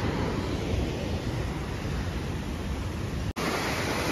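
Rushing floodwater in an overflowing arroyo in Nogales, a loud, steady roar heard from about 50 metres away with no voices.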